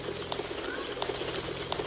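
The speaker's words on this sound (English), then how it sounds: "Bird." Ambient birds in the video game Minecraft, soft repeated cooing calls over a dense, steady wash of background noise.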